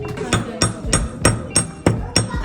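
A silver ring is shaped by hand in a Bali jewellery workshop, struck with light hammer blows: about seven sharp, evenly spaced metallic taps, close and fairly loud.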